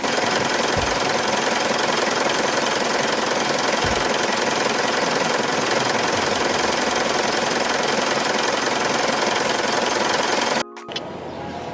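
A car engine idles steadily with a rough, even drone while a battery is being tested, running alone without talk until a sharp cut near the end.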